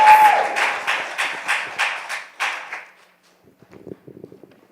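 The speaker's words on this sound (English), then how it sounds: "Can I get a round of applause?" A round of applause from a youth meeting crowd greeting the founder as she is called up: brisk, fairly loud clapping for about three seconds, then a sudden stop followed by faint scattered taps and shuffling.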